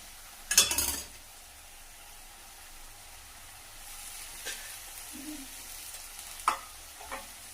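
Eggplant and potatoes sauté in a pan for a masala, opening with a sharp clattering stir, then a quiet sizzle with a few light utensil taps scattered through.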